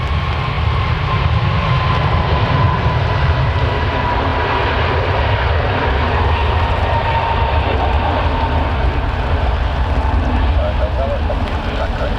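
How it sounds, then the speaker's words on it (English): A Ryanair Boeing 737-800 from Cork lands at Manchester Airport during Storm Claudia, heard as a loud, steady roar of engines and wind that fills the whole stretch without letting up. "just landed now. It is Ryanair 737-800 from Cork"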